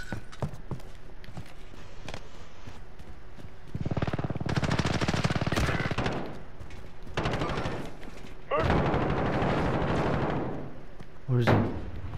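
Rapid automatic gunfire in Call of Duty Warzone on Rebirth Island, several sustained bursts with a short later burst, close and loud, with a voice speaking briefly.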